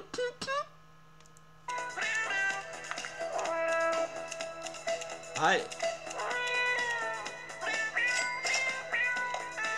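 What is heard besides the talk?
cat meowing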